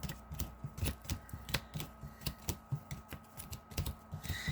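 A deck of Magic cards gets a quick, thorough shuffle, close up, as a steady run of crisp riffling snaps and clicks repeats in even bursts with no talking.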